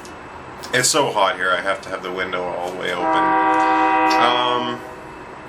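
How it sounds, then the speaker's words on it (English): A passing train heard through a wide-open window on a hot day, its horn sounding in long sustained blasts that swell loud near the end, with someone talking over the start. "And I'm competing with a train right now"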